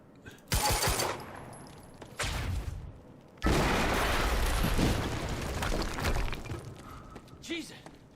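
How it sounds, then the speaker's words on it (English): Loud, sharp bursts of blast and gunfire-like noise in the video game Quantum Break arrive in several separate surges, with short gaps of quiet between them. "HQ, we just heard an explosion near the harvesting perimeter"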